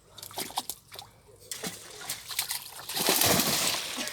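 A dog splashing through river water makes a run of sloshing and spattering bursts, building into a louder, dense spray near the end, with faint birdsong and a little outdoor background.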